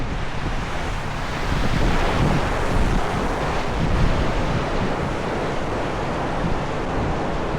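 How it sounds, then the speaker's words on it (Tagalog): Strong typhoon Carina wind roars steadily over a flooded Metro Manila roadside, a loud, continuous broadband rush with gusty swells and buffeting against the microphone, no voices. "Lakas ang hangin."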